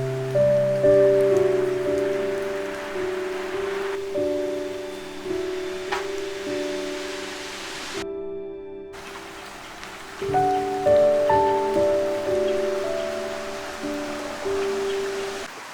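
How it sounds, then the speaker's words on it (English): Steady rain patters down on foliage, a continuous close hiss with scattered drops, joined by sustained tonal sounds that pause briefly partway through. "it's actually starting to rain"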